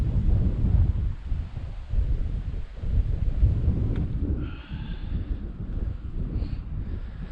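Wind blows hard against the microphone at a wild campsite in the Scottish Highlands near a loch at dusk, a loud, continuous rumbling gust that rises and falls throughout.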